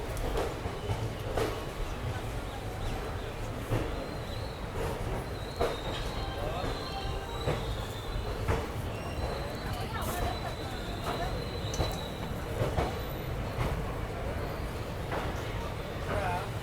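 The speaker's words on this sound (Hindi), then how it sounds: "अभी देखो अपने शेड्यूल टाइम से लगभग 4 मिनट की देरी से अपनी अमृता एक्सप्रेस निकल रही है अभी मदुरई रेलवे स्टेशन से" Amritha Express rolls out of Madurai railway station, a low steady rumble of wheels and carriages with occasional rail squeals and clanks, platform chatter faintly in the background.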